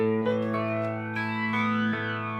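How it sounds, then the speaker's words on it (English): Electric guitar through a Sonicake Warped Dimension pedal set to a heavy flanger, sustained chords sweeping with a jet-like whoosh and shimmering comb-filter movement, loud and close, with no voice. "So that flanger sound is a bit nuts."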